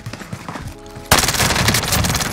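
Rapid automatic gunfire from a Kilo and MAC 10 loadout in Call of Duty Warzone bursts in loud and close after a quieter moment and runs as a continuous rattling stream of shots.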